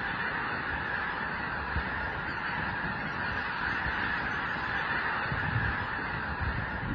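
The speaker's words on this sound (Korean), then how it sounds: "큰 고니가 지금 전원에만 좀 날라가 있어. 한 천 마리 정도 날라왔어." A large flock of whooper swans calls at Junam reservoir in winter, a dense, steady chorus of overlapping honking voices carrying at a distance with no talk.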